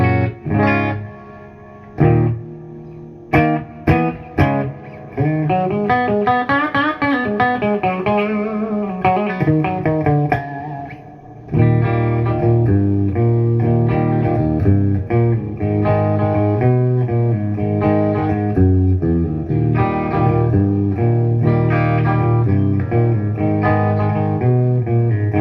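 An electric guitar played through a Crate GT3500H solid-state amp head with reverb rings out in sustained, effected chords and notes, with a few short stabs early on, then a long, full wash of reverberant tone.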